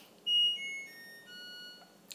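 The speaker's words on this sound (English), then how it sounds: "That was the sound of my washing machine." Washing machine beeping a short descending melody of clear electronic tones, faint and alone in a quiet room.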